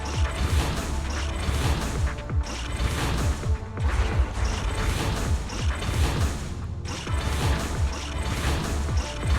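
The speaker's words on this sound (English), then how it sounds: "Let me blow up all the bombs." Bombs blowing up in the video game Zenless Zone Zero, a dense run of crashing, clattering impacts and mechanical rattles, loud and continuous with brief dips, no talk.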